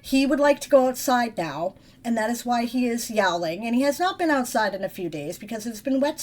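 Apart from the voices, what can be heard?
No everyday noise stands out behind the speech.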